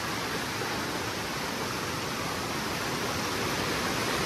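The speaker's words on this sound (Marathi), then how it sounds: "पाण्याचा प्रवाह बघा, प्रवाह किती आहे." A strong stream of flowing water in the Kokan countryside rushes with a steady, dense broadband roar, loud and unbroken from start to finish, with no voices.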